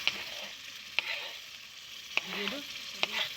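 Chopped tomatoes go into a pan of sizzling fried spices at a rooftop picnic, giving a steady frying hiss with a few sharp clinks of a stirring spoon against the pan.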